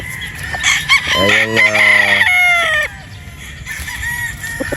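A Boston sweater gamefowl broodstag crows once, loud and close, in a full raspy cock-a-doodle-doo of about two seconds, with clucking and farmyard noise before and after it.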